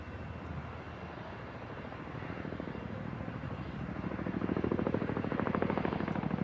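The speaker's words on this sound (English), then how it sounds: "the crew will approach for a nose-down quick stop, bringing the aircraft to a halt from cruising speed in just a few seconds" A helicopter flying a nose-down quick stop at an air show, a steady rotor and engine drone with a pulsing chop that grows louder over several seconds, heard at moderate distance.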